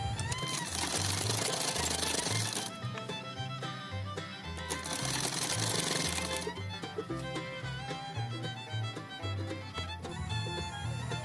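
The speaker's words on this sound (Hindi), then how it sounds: "हम पक्की सिलाई लगा देंगे।" A sewing machine stitches a petticoat hem in a fast rhythmic whir, with louder stretches of running that ease off and pick up again, close and steady, while faint music or background sound plays under it.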